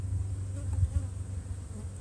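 Honeybees drone in a steady low buzz at an opened hive in the Bluebell colony as the supers go back on, close and continuous throughout.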